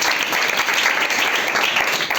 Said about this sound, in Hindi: ताली इनके लिए एक बार।